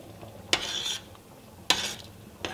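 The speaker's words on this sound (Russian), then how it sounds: "Перемешиваем." A spoon stirring pea puree with mushrooms in a pot: three separate scraping strokes, each a short sharp scrape that trails off, fairly close and quiet with no talk.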